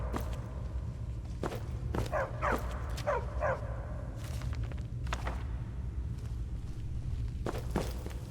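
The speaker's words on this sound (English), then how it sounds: "Stupid dog." A dog in Skyrim barks and yips in several short, sharp bursts at moderate distance, with footsteps around it and a low background hum.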